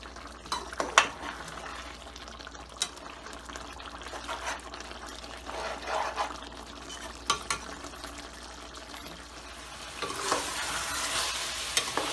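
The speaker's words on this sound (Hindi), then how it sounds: "हम इसको भून रहे हैं।" Kalonji chicken with green chillies frying and being stirred in a pan, a steady sizzle under repeated scraping spoon strokes, with a louder hiss burst near the end.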